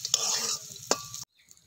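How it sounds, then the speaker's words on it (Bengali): Bathua greens with potato and eggplant being stirred in a hot pan, a close scraping and sizzling that runs about a second and a quarter before cutting to near silence. "ভালো করে নাড়াচাড়া করে একটু ভেজে নিচ্ছি"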